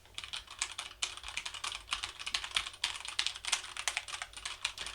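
Fingers tap rapidly on a computer keyboard, producing a dense, continuous patter of quiet, crisp clicks with brief pauses, heard close with no voices.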